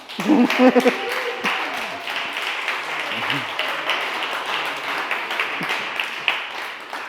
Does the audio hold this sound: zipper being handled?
no